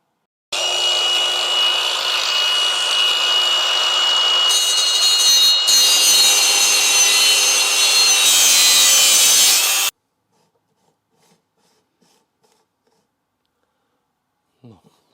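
A part for a Renault Mégane 3 RS being cut along a closely dotted guide line with a power tool, a steady loud grinding rasp lasting about nine seconds, then stopping abruptly into near silence.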